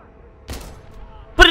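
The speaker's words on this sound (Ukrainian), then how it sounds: "Ред, стріляй!" Gunfire in the WWII shooter Call of Duty: WWII during the Rhine bridge mission, with a short burst of shots and then a louder, close burst at the end.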